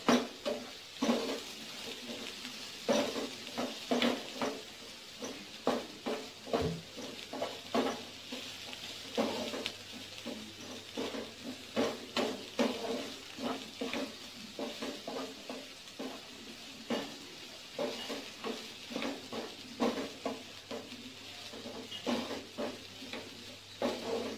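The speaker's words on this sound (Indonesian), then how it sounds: "kita tumis sampai harum layu baru nanti kita masukkan daging asapnya" Aromatics being sautéed in a pan, with sizzling under repeated spatula scrapes and clacks against the metal, a steady irregular rhythm of stirring close by, no voices.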